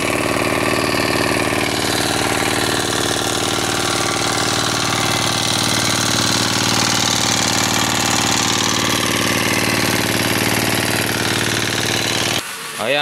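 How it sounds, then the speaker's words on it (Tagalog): A diesel generator engine runs steadily and loudly at close range for the whole stretch, a dense continuous mechanical roar with a constant low throb, cutting off abruptly at the very end. "Tingnan yung buga ng dinamo, napakalakas."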